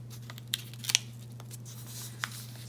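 Paper is folded for a Christmas tree decoration, a few faint, sharp creases and crinkles at close range over a steady low electrical hum, with no talking.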